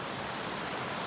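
Water flowing under a bridge near a lake gives a steady, broadband rushing hiss, constant and fairly close, with no voices.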